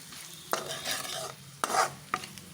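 Carrots with salt and chilli powder are stirred in a pan for a green-pea curry, three sharp spoon scrapes against the metal over a soft steady sizzle, close and fairly quiet.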